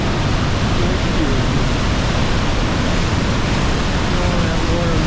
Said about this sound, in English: Water's moving super fast.